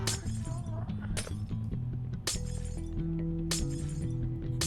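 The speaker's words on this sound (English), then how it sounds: "More breaking of glass for you guys' enjoyment." Glass blocks shatter in Minecraft, four sharp bright crashes at roughly even intervals over a steady game music bed, with faint talk in the background.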